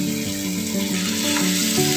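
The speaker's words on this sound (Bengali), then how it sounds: "প্রায় ভাজা হয়ে গেছে, আমি এবারে গ্যাসটা অফ করে দিচ্ছি।" Spices frying in a pan for a paneer lababdar masala, a steady loud sizzle that runs close and unbroken throughout, with no talking.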